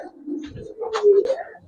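Silver Giribaz and coloured pigeons give a close, soft throaty coo that swells in the middle of a brief call, with no talk.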